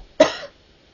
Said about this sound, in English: I am so sick of this cough.